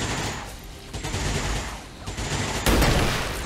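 Submachine gun fire in the video game XCOM 2, dense rattling bursts with a sharp loud burst late in the clip over a noisy battle background.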